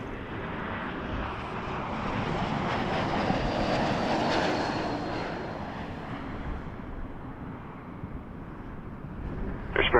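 A Porter Airlines Embraer 195-E2 airliner at Toronto Pearson roars past with a steady jet-engine rumble and whine that swells to a peak and slowly fades, fairly loud at moderate distance, with no talking.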